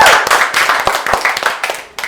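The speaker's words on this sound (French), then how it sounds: "On peut l'applaudir très" Small group clapping in a radio show studio, a short burst of distinct, close hand claps with uneven rhythm that thins out toward the end.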